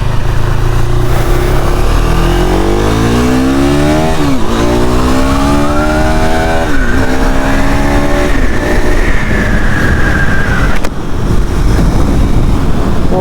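A KTM Enduro 390 R motorcycle ridden in street mode revs loudly up and down through several gear changes, its engine note climbing and dropping as it accelerates close by.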